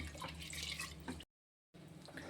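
Toor dal lentils are swished and rinsed in water in a kitchen, giving quiet splashing and trickling with a brief silent gap in the middle.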